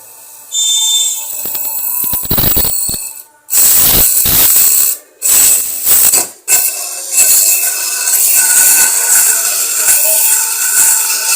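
A 12-volt drill machine runs in short, loud bursts, its motor whining and grinding as it bites, separated by brief pauses, then a longer steady run.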